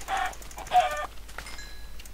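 A chicken in a survival video game gives two quick clucking bursts up close, followed by fainter scattered clicks and short tones.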